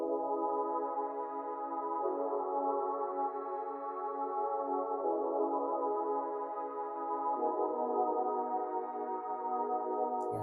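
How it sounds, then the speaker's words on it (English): An analog pad synth from the Toxic Biohazard instrument plays sustained chords in a hip hop beat. The chords are smooth and held, with changes a few seconds apart, and nothing else plays with them. "for that I add this pad from Toxic Biohazard."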